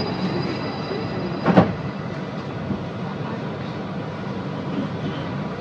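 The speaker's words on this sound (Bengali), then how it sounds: "Please hold on. Train is departing." Automated driverless Dubai Metro train departing, a steady rumble of rail noise with one short louder screech midway.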